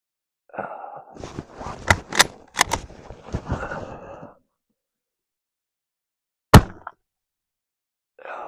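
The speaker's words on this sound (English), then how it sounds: "The joys of shooting a gun that you haven't properly zeroed" Mosin-Nagant M91/30 rifle fired outdoors during a winter shoot, several sharp cracks in quick succession followed after a pause by another loud isolated shot, with short rustling noise between.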